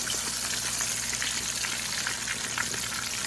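Fish deep frying in oil over a fire gives a dense, constant bubbling hiss, close and even in loudness, with no talking.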